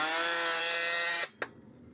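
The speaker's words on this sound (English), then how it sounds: "Just drill directly right into our ledger board and secure with screws." A power drill runs steadily, driving screws into a wooden ledger board over a garage door, with a sustained whirring motor that cuts off and is followed by a brief click, close and alone.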